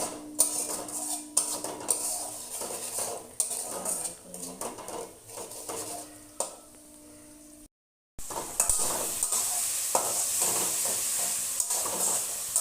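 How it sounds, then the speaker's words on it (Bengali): Onion, ginger and garlic fry in a wok with spatula scrapes and clinks over a hissing sizzle. After a brief silent gap, the sizzle returns louder and more continuous. "লাল করে কড়াইতে পেঁয়াজ আদা রসুন দিয়ে দিলাম"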